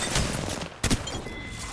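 Shotgun blasts from the Mastiff in the Apex Legends video game, with two quick, punchy booming shots close together amid game noise, the second pair louder.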